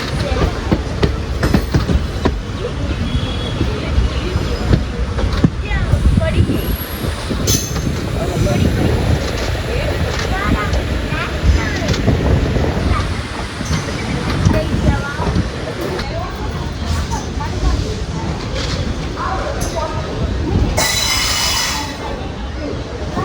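Coimbatore Intercity SF Express running into Coimbatore Junction, a loud continuous rumble of wheels on rails with high metallic squeals rising at intervals throughout.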